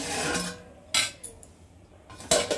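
A lid set onto a pot of cooking meat for biryani gives a few sharp metallic clanks and light clinks, close and fairly quiet, with no talking.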